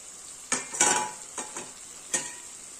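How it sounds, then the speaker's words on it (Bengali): Fried eggplant goes into a sizzling onion flower stalk curry with fish, with a constant hiss of frying and four or five close scrapes and thumps of a spoon against the pan, no voices. "খুব ভালো করে কষানো হয়ে গেছে, এবার আমি ভেজে রাখা বেগুনটার মধ্যে দিয়ে দেব।"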